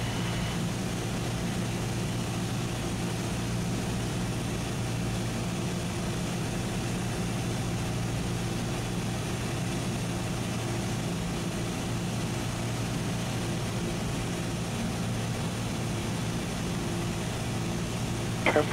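Cessna 172SP piston engine droning at reduced power in the traffic pattern, a steady low cabin hum with no breaks throughout.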